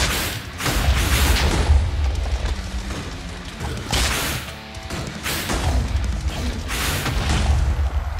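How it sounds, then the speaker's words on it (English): Wither boss explosions in Minecraft on a hardcore world: repeated heavy booming blasts and crashing rumbles come in several loud waves, with no talk. "It's gonna explode."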